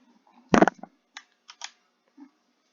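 Typing on a computer keyboard, a quick burst of loud clustered keystrokes followed by a few sparser, softer taps spaced apart in a quiet room.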